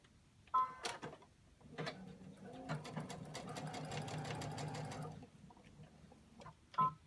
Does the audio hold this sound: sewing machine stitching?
yes